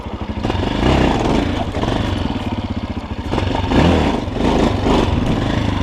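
A Chinese Forte CBA 250 enduro motorcycle is ridden nearby on a first training ride through muddy ground, its single-cylinder engine chugging and revving in loud, pulsing surges with some clatter.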